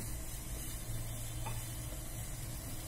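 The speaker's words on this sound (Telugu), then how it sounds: "వాటర్ బాయిల్ అవుతుంది కదా" Water heating in a pot on the stove for black coffee gives a steady, close hiss and faint bubbling simmer that runs evenly throughout with no voices.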